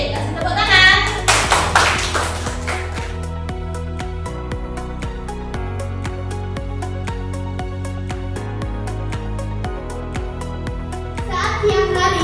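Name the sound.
class clapping hands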